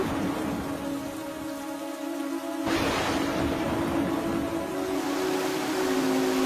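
Heavy rain falls in a steady, dense wash that swells noticeably louder a little under three seconds in and then stays loud and close, with faint sustained tones underneath and no talking.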